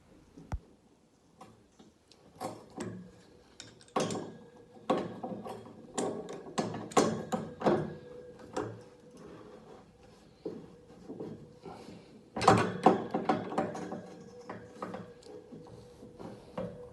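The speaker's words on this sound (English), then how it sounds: "And then tighten them up using some adjustable spanners." Ratcheting, clicking metal-on-metal turns of adjustable spanners tightening radiator nuts onto the valves during a bathroom radiator fit, in repeated short bursts with quiet gaps between them, close up and with no talking.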